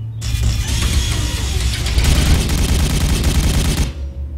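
Rapid burst of weapons fire from units shooting at a target in Warhammer 40K: Regicide, dense rattling volleys layered over a low rumbling drone, loud and continuous before cutting off abruptly.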